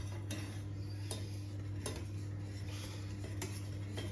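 A utensil stirs hot milk custard mixture for a flan in a pot, making light, regular clicks and taps against the pot's sides over a low steady hum.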